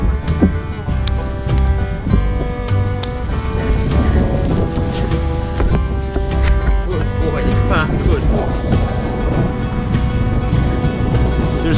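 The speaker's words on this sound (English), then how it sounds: "nice gust and some fair-sized waves out on 9 Island Pond." Wind gusts buffet the microphone over fair-sized waves on a lake, 9 Island Pond in Newfoundland, with a dense roar of wind and water and a voice speaking over it.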